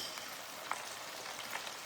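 Shrimp fry in a deep fryer with a steady, soft sizzle and a few faint pops, no voices over it.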